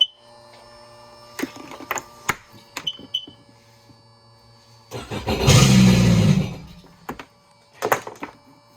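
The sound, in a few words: Sea-Doo Spark bilge pump running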